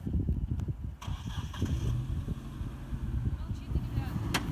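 A Jeep Grand Cherokee with a 4.7 engine cranks and starts in a forest, giving a low, uneven rumble close by while people talk over it.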